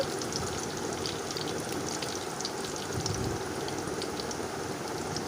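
Cardamom pods, cloves and slit green chillies sizzle in hot oil over cinnamon pieces, a steady close crackle and hiss with fine popping spatters, continuous and fairly quiet with no talking.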